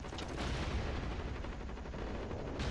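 Heavy gunfire and booming blasts in the ZMR Assault Ops shooter game, a continuous loud rumbling barrage with scattered sharp cracks throughout and no talking.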